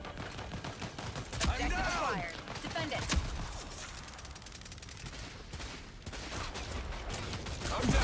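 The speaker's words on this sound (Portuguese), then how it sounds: "É tiro de todo lado, velho." Gunfire erupts in the Rogue Company third-person shooter video game, with rapid bursts and sharp single shots coming from several directions amid clattering mechanical effects.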